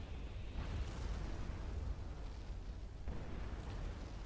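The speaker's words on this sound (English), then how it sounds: "another unit cannon has been fired" Unit cannon fire in a kaiju base-defence strategy game, heard as a deep, rumbling boom with a broad, sustained roar and a fresh burst partway through, with no talking.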